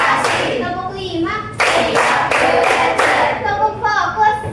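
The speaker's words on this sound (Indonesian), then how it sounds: "Tepuk 1, tepuk 2, tepuk 3, tepuk 4," Children clap hands in a counted classroom rhythm, sharp claps in small groups separated by short pauses, with a voice chanting the count over the top.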